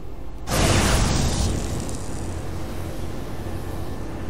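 Torpedo volley launching in the space strategy game Sid Meier's Starships: a sudden loud blast of broadband noise that holds for about a second, then fades into a long rumbling, whooshing tail that stays steady to the end.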